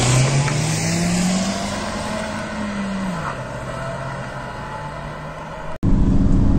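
A Honda WR-V and a Hyundai Creta accelerate side by side in a drag race, engines droning loud and steady with a rising then falling pitch as gears change, running continuously before a brief cut near the end.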